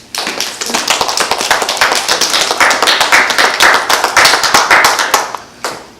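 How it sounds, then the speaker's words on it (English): A church congregation claps hands in praise, a dense, lively burst of many overlapping claps that holds steady for about five seconds, fades, then gives a brief last flurry. "Give the Most High a hand clap praise."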